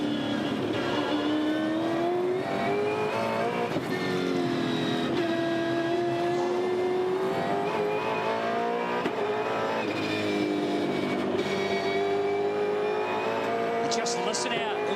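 V8 Supercar race engine at Albert Park screaming at high revs, pitch climbing and dropping repeatedly through gear shifts, loud and close under a commentator talking.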